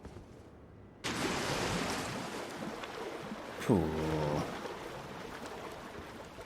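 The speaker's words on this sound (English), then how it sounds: "Very loud splash that was." A loud water splash in the Elden Ring: Shadow of the Erdtree video game erupts suddenly and sustains as a broad wash of noise, with a short tonal creature-like cry partway through and a brief spoken word.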